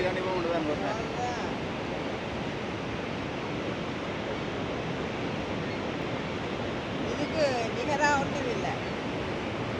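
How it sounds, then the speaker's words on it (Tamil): Steady rushing water fills the whole stretch, a broad continuous roar like a fast river close by, with faint voices and a few bird-like chirps near the end. "பாருங்க என்ன ஸ்பீடில் தண்ணி ஓடிக்கொண்டு வருதுன்னு"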